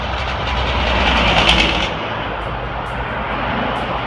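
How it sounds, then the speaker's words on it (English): A loud, rough roar from a passing truck using its exhaust brake in Hahndorf, Australia, swells then fades into steady background noise. "the truck was just doing what it's not supposed to do, using the noisy exhaust brake"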